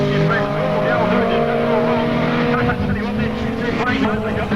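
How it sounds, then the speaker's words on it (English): Formula 2 racing car engines, including an Elfin F2, whine at high revs in a continuous loud drone, with pitches shifting as they race nearby at Baskerville circuit in 1990. "The competitors right there in these little Formula 2 cars"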